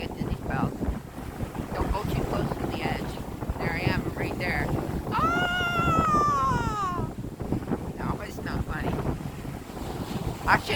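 Strong wind buffets the microphone on the Atlantic coast at Herring Cove, a steady roaring gust with surf beneath, while voices talk and laugh over it throughout.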